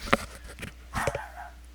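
A pet dog named Zimmy barks indoors, a few quick, fairly faint barks and yips in a short burst, with no talking.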